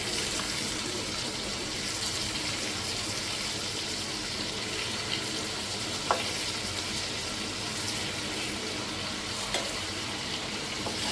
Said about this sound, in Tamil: நல்லா எண்ணெய் கொதிச்சிட்ருக்கு மீன் பொழிஞ்சிட்ருக்கு